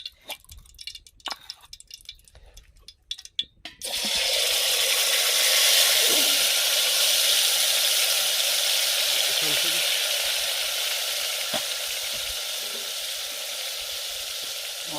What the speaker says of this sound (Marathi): मसाला छान भाजून घेऊ आपण तेलामध्ये.